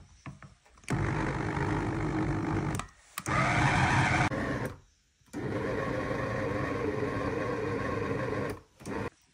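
A blender grinds deboned chicken meat for homemade halal sausage, running loud in three long bursts separated by brief stops, its motor pitch rising in the middle burst.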